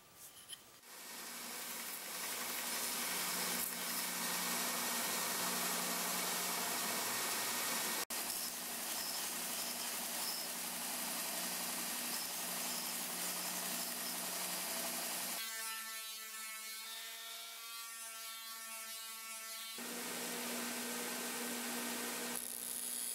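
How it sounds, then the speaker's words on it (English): Sandpaper worked by hand over the curves of a black walnut hatchet handle, a steady soft rasping that continues close and alone, with a brief change in texture near the end. "now I just have to sand them down."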